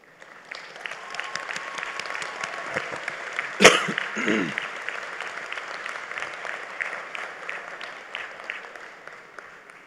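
Applause from a graduation commencement audience, a steady dense wash of many hands clapping throughout, with one sharp louder clap or knock near the middle.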